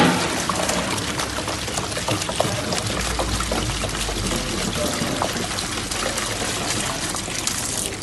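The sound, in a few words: pouring water and milk into mixer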